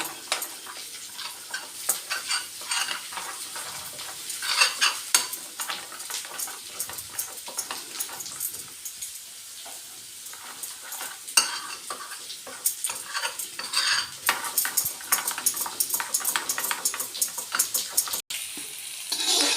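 Spices are worked into yogurt for a spicy dum aloo, a continuous wet stirring and scraping with a busy crackling texture, louder in stretches and easing midway, no speech.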